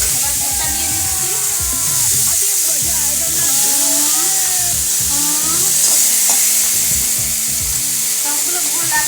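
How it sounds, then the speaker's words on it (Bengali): Milk goes into a hot pan of mango chutney, and a loud steady sizzle and bubbling hiss follow, with a voice murmuring faintly underneath. "এবার দুধটা দিয়ে দিচ্ছি"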